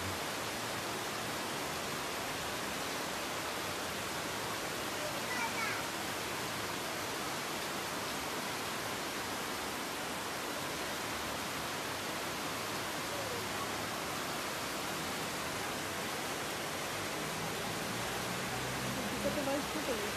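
Rushing floodwater pouring down a street like a river, a continuous loud, even roar that fills the whole stretch.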